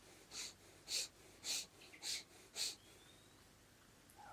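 Five quick, evenly spaced breaths, strong bursts about half a second apart in a quiet room during a mindfulness breathing exercise, each a sharp forceful exhale through the nose, then silence.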